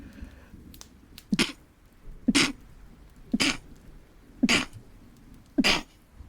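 Five or six sharp, explosive bursts, sneezes or coughs, arrive at roughly one-second intervals, each loud and abrupt against a quiet room with no talk between them.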